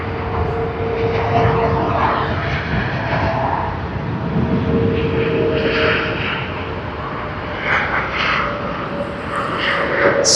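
Cathay Pacific Airbus A350 landing at Sydney Airport, with tyre smoke off the wheels: a steady, loud jet roar with a whining engine tone that holds for the whole stretch, with no voices.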